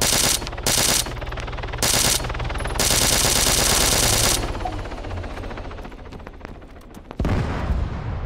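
Rapid automatic gunfire in Arma 3 King of the Hill, with long loud bursts and sustained rattling volleys close by, then a sharp louder burst near the end.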